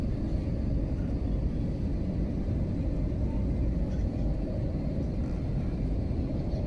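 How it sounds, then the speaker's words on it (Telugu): A steady, loud low rumble fills an airplane cabin as the flight descends to land near Bengaluru, a continuous engine and airflow drone with no talking. "ఫ్లైట్ ల్యాండ్ అవుతుంది."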